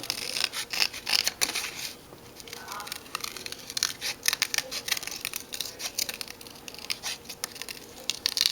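Scissors snip and rasp through paper, cutting small key shapes for a vintage-themed handmade card, in a run of close, quiet, irregular cuts and rustles.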